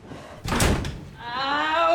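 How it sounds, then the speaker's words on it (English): A film scene in an office has a door slammed hard with a single loud, close bang, followed straight away by a person speaking. "Do not slam that door."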